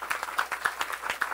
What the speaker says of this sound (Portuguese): eu queria pedir aí uma salva de palmas